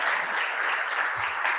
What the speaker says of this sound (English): Can we please clap Vish